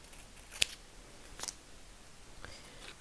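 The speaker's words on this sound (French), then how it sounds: "je vais prendre un ciseau pour le papier" Scissors snip sticky paper in two or three short, crisp cuts spaced about a second apart, close up and quiet, with nothing else audible around them.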